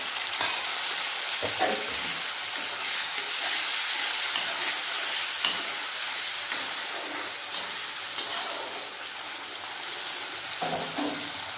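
Tomato fries together with onion in a pan, giving a steady hissing sizzle with a few sharp stirring clicks and taps throughout.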